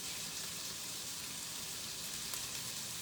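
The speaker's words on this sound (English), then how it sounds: "It's just light sauteing." Thinly sliced red and green bell peppers sauteing gently over a medium flame, giving a soft, steady, even sizzle with no voices.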